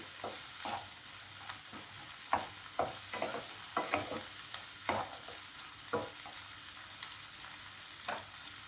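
Cashews frying in a pan for an egg do-pyaza curry give a steady broadband sizzle, broken by repeated short scrapes and clicks of stirring, fairly quiet and with no talking.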